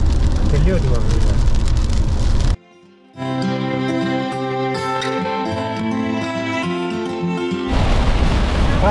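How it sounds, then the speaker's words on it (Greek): Heavy rain drums loudly and steadily on a car driving on a road during a storm on a trip to Ljubljana. The roar briefly gives way to music in the middle before the downpour returns. "Πάλι βροχή. Πάλι πολύ βροχή. Στον δρόμο."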